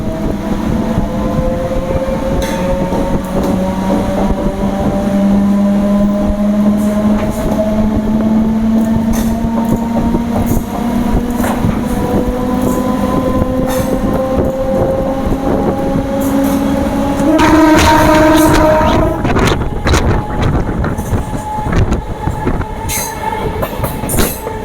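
A MEMU electric train pulls out of Palani station, wheels clattering and squealing as the tone of its motors climbs steadily, loud and close with rising speed toward the end.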